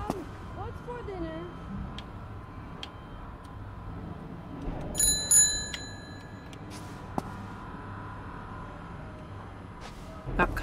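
A bicycle bell rings in the horror video game Unholy, two or three quick bright dings in the middle, heard over game ambience with a person talking before and after.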